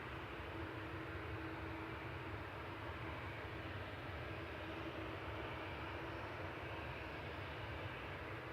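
Airbus A380 from Istanbul on approach to land at Manchester Airport, a steady broadband engine roar holding loud and unbroken throughout, with no voices over it.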